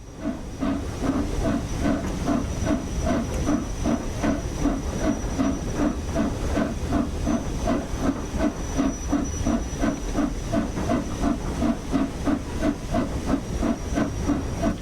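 Steady, rhythmic exhaust beats and continuous steam hiss from the Flying Scotsman steam locomotive building speed on the East Coast Main Line, loud and close without any voices.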